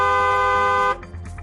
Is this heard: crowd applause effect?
no